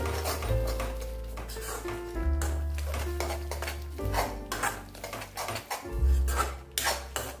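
A spoon scrapes and clatters against a pan as turmeric, coriander powder and kasuri methi are stirred in with cauliflower and potato. The metallic knocks and scrapes come up close and irregular, with a faint sizzle beneath.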